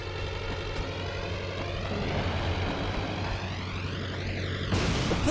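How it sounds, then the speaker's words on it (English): A continuous airplane engine roar from the Spider-Man 2 video game drones steadily, with a rising whine near the end and a sudden burst of louder noise in the last half second. "The plane is gonna blow if I don't clear a path for it."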